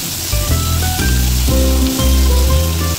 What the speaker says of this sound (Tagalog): gigisa na natin yung luya, sibuyas, at saka